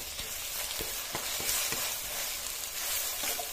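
Ginger paste frying in a pan for chicken curry, a steady soft sizzle broken by repeated scraping stir strokes, close up with no talk.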